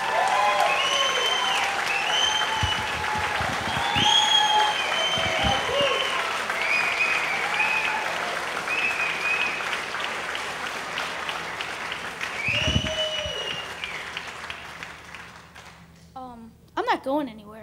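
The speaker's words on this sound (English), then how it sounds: "I just wanted to hear your applause." An audience at a comedy show breaks into loud sustained applause and cheering that slowly fades, rising again briefly before dying away.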